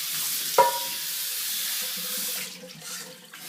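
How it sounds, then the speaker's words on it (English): A cast iron pan with stuck-on bacon bits is rinsed under a running kitchen tap, a steady hiss of flowing water with a brief clink of metal near the start, close and alone. "I'm going to go ahead and dump this and give it a rinse."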